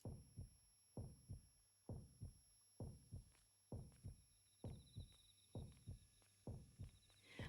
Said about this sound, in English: the first time I heard the heartbeat today here